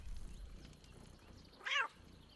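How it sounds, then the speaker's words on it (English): A cat in Baldur's Gate 3 lets out a single short, fairly clear meow over quiet background ambience. "Does this cat belong to Gale?"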